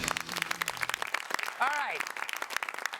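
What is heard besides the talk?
audience applause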